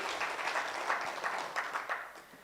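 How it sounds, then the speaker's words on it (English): Audience applause for the Institute of Primate Research team at the launch of a research week event, a steady wash of many hands clapping at moderate distance, sustained throughout without speech. "Let's give a clap to that team"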